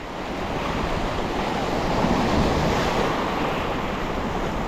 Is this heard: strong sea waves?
yes